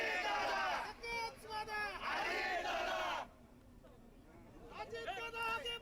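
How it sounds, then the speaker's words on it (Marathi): A crowd of Ajit Pawar supporters celebrating his win in the Malegaon cooperative sugar factory election, chanting slogans in loud rhythmic bursts, a brief drop, then the shouting rising again. "तर अजित पवार यांचे समर्थक सध्या जल्लोष करतायत।"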